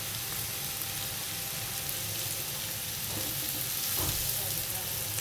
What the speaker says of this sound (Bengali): দেখছেন কি সুন্দর করে ভাজা ভাজা হচ্ছে।